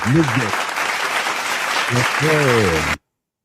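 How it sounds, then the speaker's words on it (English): Hand clapping from a group in a discussion setting, a sustained burst of applause under voices that rise and fall, cutting off abruptly near the end. "Make I clap for that point first."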